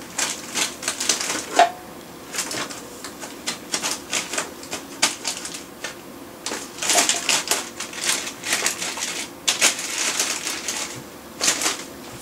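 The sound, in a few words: pressing buttons on a computer keyboard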